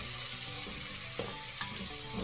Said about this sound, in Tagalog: isunod na po natin yung ating sibuyas. Isunod na po natin yung ating kamatis.